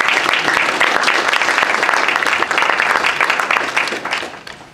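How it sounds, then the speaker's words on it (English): An audience at a city council candidate forum claps steadily for several seconds, a dense close wash of applause that fades out at the end. "let's get a round of applause for our candidates tonight"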